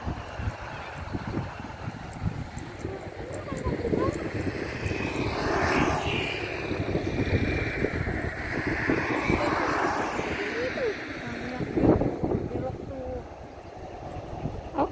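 A Batik Air airliner at Soekarno-Hatta airport, Jakarta, heard from outside the airfield: a steady, moderately distant jet engine rumble and whine that swells and fades over about fifteen seconds, with wind noise.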